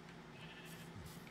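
Sheep bleating in a relaxed farming video game, faint short bleats over a soft steady background.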